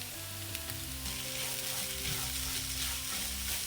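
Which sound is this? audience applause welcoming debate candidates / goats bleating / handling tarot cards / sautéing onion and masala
sautéing onion and masala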